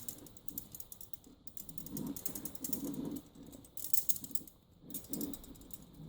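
A flaring tool clamped on a brake line for an Austin Healey is tightened down on both sides, giving repeated ratcheting clicks and metallic mechanism noise in short bursts, close and moderately loud.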